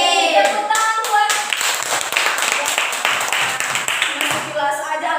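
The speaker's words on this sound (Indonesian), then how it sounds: "Tepuk tangan buat." Students clap their hands together in a classroom, a quick burst of many hands at fairly close range, with a few brief voices and some ringing tones mixed in.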